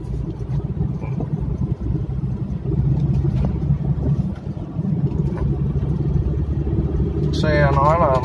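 Imported Japanese Toyota Corolla driving through busy city traffic, with a steady low engine and road drone throughout, someone talking over it, and a short horn-like tone near the end.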